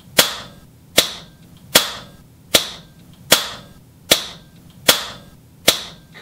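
A PCP air rifle fired during tuning: eight sharp, close cracks spaced evenly under a second apart, each dying off quickly into a quiet background.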